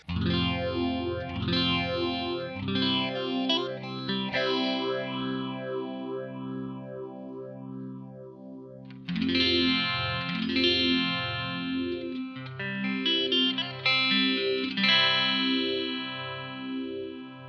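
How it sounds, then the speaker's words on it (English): Electric guitar chords and melodic lines through a Strymon Mobius phaser, a sweeping, swirling effect, played alone and fairly loud, with a brief pause midway before resuming. "When playing around with the phasers, I really do prefer the Mobius over the MD-200."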